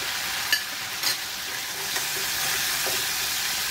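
Chillies and Kashmiri red chili powder fry in a pan for a Rohu fish curry, giving a steady close sizzle with a few soft stirring scrapes.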